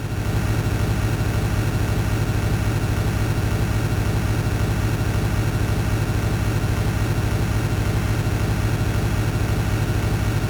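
A bus engine in the Desert Bus VR video game drones steadily and loudly, a constant low rumble with no breaks or voices for about ten seconds.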